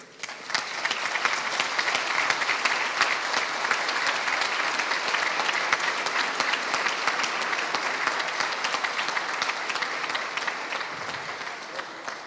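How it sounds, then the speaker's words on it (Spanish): A standing audience applauds students and military faculty at a lecture by a Spanish colonel on geopolitics, a dense, steady roar of clapping that holds for about twelve seconds before easing off slightly at the end. "hacerle un aplauso a los estudiantes y a la facultad de los militares"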